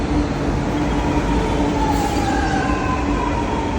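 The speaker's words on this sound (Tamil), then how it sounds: "ஏர்போர்ட்டுக்கு வந்துட்டுருக்கு மெட்ரோ." A Chennai metro train rumbles steadily close by, with faint squealing tones rising from the wheels as it rolls into the airport station and slows.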